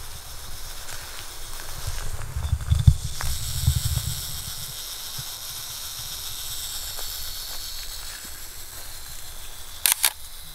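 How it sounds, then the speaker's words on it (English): A steady hiss fills the background at Porlock Salt Marsh, a few soft mechanical clicks early on, then a quick pair of sharp camera shutter clicks from a self-timer near the end. "So let's press the shutter and go."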